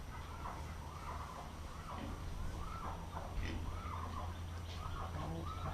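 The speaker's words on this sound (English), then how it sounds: "Oh, some chickens." Chickens on a dairy farm cluck and murmur in short repeated calls, moderately near over a low rumbling background that continues throughout.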